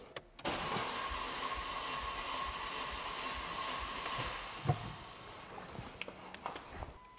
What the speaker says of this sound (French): Donc là, on a mis notre premier coup de démarreur.